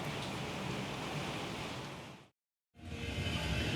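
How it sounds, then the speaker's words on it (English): Heavy, relentless rain on a Friday evening in a truck yard, a dense steady hiss that cuts out completely for a moment before resuming just as strong. "the rain is just brutal, man. It just doesn't let up."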